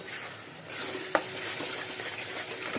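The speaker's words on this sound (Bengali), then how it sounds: "যতক্ষণ না এখান থেকে তেল বেরিয়ে আসবে ততক্ষণ এটাকে নাড়তে হবে" Pointed gourd mash frying in oil as it is stirred, a steady close sizzle with soft scraping strokes and one sharp clink of a utensil against the pan.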